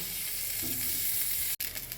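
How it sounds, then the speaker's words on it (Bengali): A stuffed oat snack toasting in butter in a pan gives a steady, soft sizzle throughout, close and even, with a brief dropout near the end and a faint clink of handling. "এই দেখো এটাকে আমি বাটার দিয়ে সেঁকে নিচ্ছি।"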